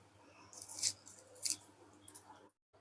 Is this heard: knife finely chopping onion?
yes